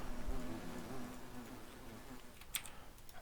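Bees buzzing around apiaries in the game Minecraft, a quiet, wavering drone close by, fading toward the end and then cut by a few faint clicks.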